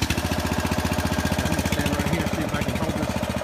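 Engine of a foundation repair hydraulic machine running close by, a loud, steady rapid chugging pulse with a rough mechanical clatter, throbbing evenly without pause.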